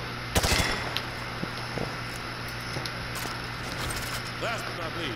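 Automatic gunfire from a Call of Duty Modern Warfare 2 Remastered training range, rounds punching through light cover: one loud burst near the start, then scattered lighter shots over a steady background hum and faint voices.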